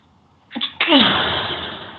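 A single close, loud sneeze with a short sharp intake followed by a long breathy burst that fades, alone in a quiet room.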